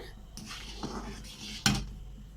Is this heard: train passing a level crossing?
no